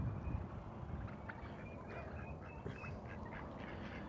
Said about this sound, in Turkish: Ördeklerimiz burada.